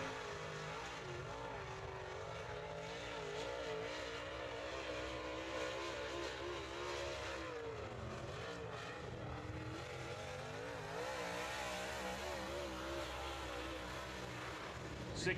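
A UMP modified race car lapping a dirt speedway, its engine heard from a distance as a continuous droning rumble that rises and falls in pitch as it goes around the track, fairly faint and steady throughout.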